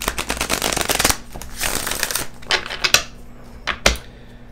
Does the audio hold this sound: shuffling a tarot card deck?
yes